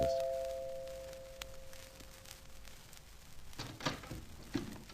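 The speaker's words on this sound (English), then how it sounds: "My doorbell rings." A two-tone doorbell chime rings once, then sustained tones fade out, followed by a few soft knocks and rustles nearby.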